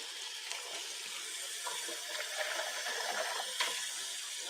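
Water runs steadily from a kitchen tap in a continuous hiss and splash, with no talk over it.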